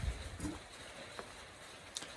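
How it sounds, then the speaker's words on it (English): Heavy rain falls outside during an engine refresh on a 2004 BMW E53, a faint, steady broadband hiss with a few soft patters and taps, and no voices. "if you can hear, there's rain, lots of it"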